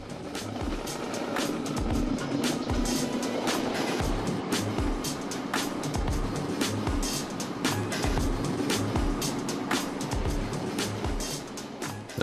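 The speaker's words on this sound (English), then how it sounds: "We continue our journey in this vehicle, a trolley." A railway maintenance trolley carrying an inspection team rolls along the tracks in Lorestan, Iran, giving a steady loud rumble broken by regular rail-joint clacks and a wash of wind.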